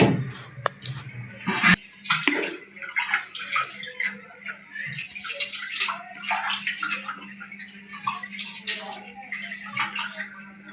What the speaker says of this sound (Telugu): బాస్మతి రైస్ అండి పలావ్ అయితే చేస్తున్నాను వీటిని కడిగి ఒక అరగంట సేపు నానబెడతాను